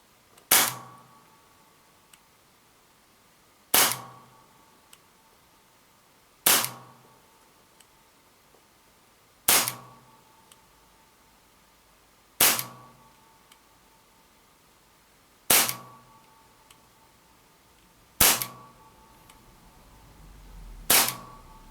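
An Armorer Works NE1001 airsoft replica pistol, a compact Springfield Armory V10 Ultra Compact copy, fired through a chronograph: eight sharp, loud single shots spaced about three seconds apart, each with a brief mechanical clack, in a quiet room.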